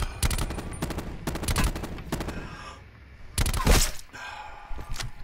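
Gunfire from both sides in Call of Duty Blackout: rapid automatic bursts and single cracks come in clusters, some close and loud, others farther off, separated by brief lulls.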